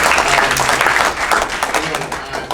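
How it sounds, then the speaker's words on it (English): A crowd at a county Republican committee meeting on the Second Amendment breaks into loud, brisk applause, many hands clapping densely for a short burst, with some crowd noise mixed in. "we can applaud that if we want to"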